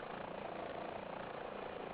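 Steady, continuous rotor and turbine drone of a helicopter in a flight simulator, hovering during a rescue winch operation, filling the whole clip at an even moderate level with no talk.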